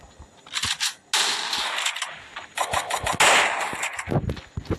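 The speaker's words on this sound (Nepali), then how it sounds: "कहाँबाट चलाइरहेको कि बन्दुक" Gunfire in the mobile battle-royale game Free Fire comes in rapid, loud bursts of shots, separated by brief pauses.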